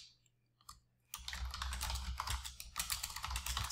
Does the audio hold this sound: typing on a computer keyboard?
yes